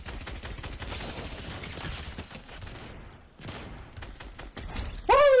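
Rapid bursts of Fortnite gunfire crackle in a dense volley, then pause briefly before more shots and a rising mechanical whine at the end.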